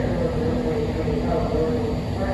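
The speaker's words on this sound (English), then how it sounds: "This is a yellow line train to Millbrae." A yellow line subway train idles loudly at Powell Street station, with a steady, droning rumble and a hum that continues throughout. A recorded announcement plays over it.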